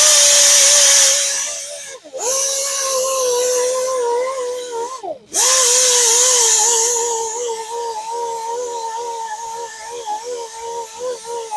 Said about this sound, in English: we'll change back to the conditioning disc. Get those deeper scratches out.